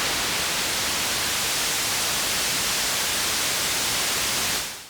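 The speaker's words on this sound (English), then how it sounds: "noise generator at maximum" Steady, loud hiss of broadband white noise from a DRC synth noise generator at maximum, filling the clip and cutting off abruptly at the end.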